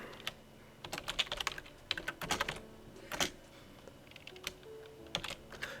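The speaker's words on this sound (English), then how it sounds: "because I'm typing in these things" Code being typed on a computer keyboard during a Forgecraft modded Minecraft session, a brisk run of close, clicky keystrokes in uneven bursts with short pauses, no talking over it.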